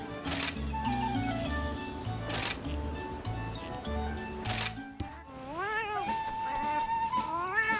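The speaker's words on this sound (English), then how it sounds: "Here's some gay cats." Cats meow in Monster Hunter Rise: Sunbreak, with several rising and falling meows arriving in the second half after a stretch of steady, loud game music that continues beneath them.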